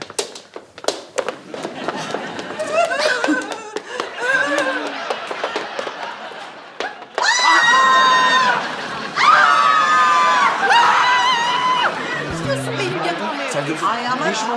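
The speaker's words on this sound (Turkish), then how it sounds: "Bağırış çağırış, çığlıkları duydum" People shout and scream in a lively indoor scene from a Turkish comedy series, loud overlapping voices and shrieks with chatter, tapping and running footsteps, rising into sustained high-pitched screaming.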